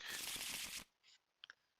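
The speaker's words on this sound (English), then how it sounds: "This shuffles back." Playing cards are shuffled back into a deck during a tabletop card game: a short dense riffle burst, then a near-silent pause and a couple of soft taps as the cards settle.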